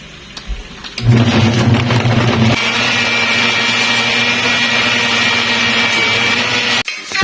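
A blender whirs loudly and continuously as it mixes a smoothie of water and sea moss. Its motor tone shifts partway through, then it runs steadily until a brief stop at the end.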